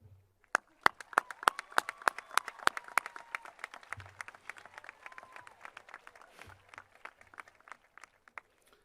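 Audience at a 2023 high school graduation ceremony in Modesto, California applauding faculty and staff, a dense burst of clapping that swells and then thins into scattered claps.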